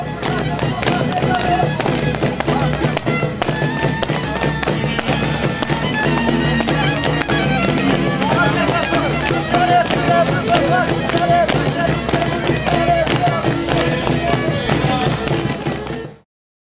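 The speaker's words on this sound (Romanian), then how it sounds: "un spectacol de artificii de care s-au bucurat toți de la mic la mare" Fireworks display following a large bonfire at an outdoor celebration in Maramureș, a continuous loud stream of rapid crackles, pops and thumps with crowd noise underneath, ending abruptly.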